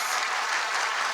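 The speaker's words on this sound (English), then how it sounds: "let me invite all of us in the National Assembly to applaud the remarks of the Right Honorable Speaker, Tajuddin Abbas." Members of a National Assembly in session applaud together, a dense, steady wash of clapping filling the chamber for the whole second without any voices on top.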